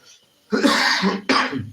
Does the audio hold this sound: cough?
yes